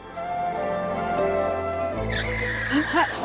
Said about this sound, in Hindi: इतनी तेज मत चलाओ, कहीं मार ना देना गाड़ी।